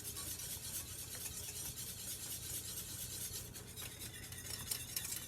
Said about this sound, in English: So I'm just really making sure this gets blended. We don't want any chunks.